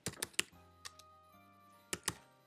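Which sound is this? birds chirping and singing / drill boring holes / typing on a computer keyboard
typing on a computer keyboard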